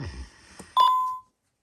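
Key presses on a Honeywell Vista security keypad: a few soft taps, then one sharp, sustained electronic beep that cuts off cleanly, followed by silence.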